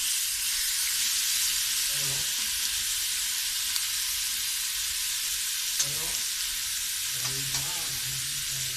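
Peri peri chicken pieces sizzle steadily on a hot grill pan, a constant close frying hiss with a few brief bursts of stirring or flipping, and no one talking.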